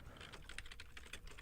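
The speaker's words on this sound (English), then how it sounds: "We're both typing at the same time." Two people typing on computer keyboards at the same time, a dense, quiet patter of overlapping key clicks with no clear rhythm, close by and faint.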